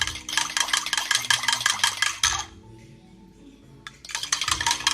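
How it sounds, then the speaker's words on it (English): Yeast and salt whisked in a bowl: fast, rhythmic metallic clinking and rattling against the bowl, a brief pause with faint rattles, then the brisk whisking resumes, close and fairly quiet. "you are going to put this, the yeast and the salt in there, and you are going to whisk it"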